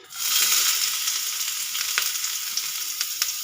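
Chopped onion drops into hot oil and crackles into a loud, steady sizzle close by, with faint stirring ticks running through it.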